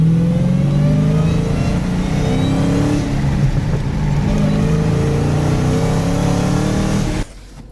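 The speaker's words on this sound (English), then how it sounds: "So when the window is down, you can really hear the whine." A steady engine drone with a rising and falling drivetrain whine from a Dodge Challenger Hellcat, heard with the window down over road and wind noise, cutting off abruptly near the end.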